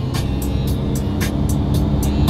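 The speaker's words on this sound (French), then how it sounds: "C'est une Ferrari." Loud, steady car noise with a low rumble throughout as a Ferrari drives, with regular brief higher-pitched bursts like tyre or road thumps repeating about every quarter second.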